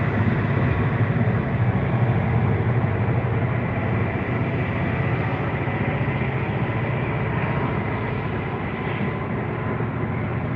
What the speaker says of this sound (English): Got another train coming past.